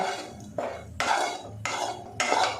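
A spoon scrapes and clinks against a pan in five separate bursts about half a second apart as ground chili and cumin are mixed into potatoes cooked in ghee. The sound is close and alone, with no talk.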